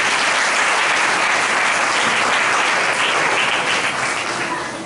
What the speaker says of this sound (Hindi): सब एक बार यीशु मसीह के लिए ताली बजाएंगे।